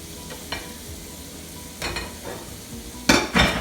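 Shrimp cooking in a pan for Jamaican-style shrimp and grits, giving a low steady sizzle with a few sharp stirring scrapes and clatters, the loudest bursts near the end.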